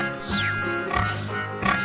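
A pig grunts and oinks in a few quick snorts over upbeat background music, fairly close and moderately loud.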